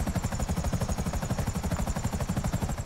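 A helicopter's rotor chops in a fast, steady rhythm over a continuous engine whine in the video game GTA V Online, loud and close throughout.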